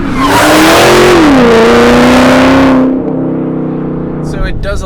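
A Hennessey-tuned Hellcat launches at full throttle, its engine roaring loud and close as revs climb, dip at a shift, then climb again for about three seconds before cutting to a lower hum with brief tire noise and talk over it.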